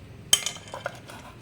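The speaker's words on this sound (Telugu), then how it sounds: "ఇలా గిన్నె అయితే పెట్టేసుకున్నాను." A metal bowl is set down inside a cooking pot with one sharp clink, followed by a few lighter scrapes and taps, close and clear in a quiet kitchen.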